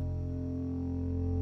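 Layered, overlapping synthesizer notes blend into one continuous sustained tone with a slow sweeping quality, thick and distorted, steady throughout without talking.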